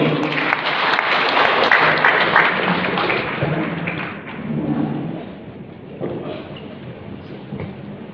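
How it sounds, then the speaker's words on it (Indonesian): An audience at a launch event gives sustained, loud applause that fades gradually after several seconds. "Boleh kita berikan aplaus yang meriah untuk beliau"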